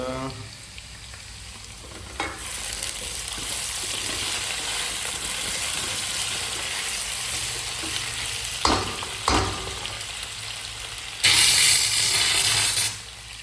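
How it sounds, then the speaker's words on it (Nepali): A steady bubbling, sizzling rush from a pot of boiling lentils fills the clip, broken by a few metallic clinks and scrapes. "यता चाहिँ दाल उम्लिँदैछ।"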